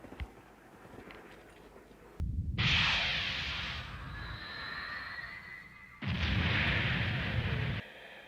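In the 1988 anime film Akira, a satellite beam blast lands as two heavy, roaring bursts, each a couple of seconds long, separated by a lower rumbling hum with a faint whistling tone.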